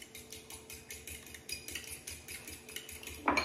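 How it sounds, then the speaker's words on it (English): A fork whisks eggs in a bowl for sweet cornbread, giving a steady, quick series of light clinking taps against the bowl, close and fairly quiet, ending in a louder knock. "now I can just use the same fork. So I'm gonna mix my eggs together."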